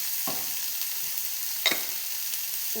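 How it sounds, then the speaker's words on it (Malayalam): Onions fry in coconut oil in a pan with a steady close sizzle, and a spoon stirs them with a few brief scraping knocks. "അപ്പോൾ ഉള്ളി ഒന്ന് വഴന്ന് വരട്ടെ"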